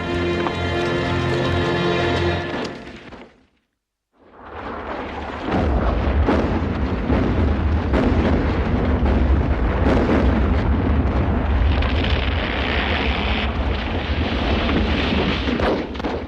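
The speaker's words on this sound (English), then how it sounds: "Whose artillery is that?" Artillery shells burst in a WWI battlefield scene: a loud explosive roar, a sudden near-silent gap, then a sustained heavy rumble of continuous shelling with dense crashing impacts close by.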